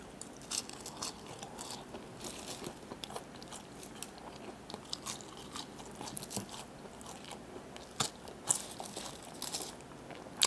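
Close, crisp crunching and chewing of McDonald's fries eaten at midnight, with irregular bites and soft mouth sounds continuing for several seconds, no talking.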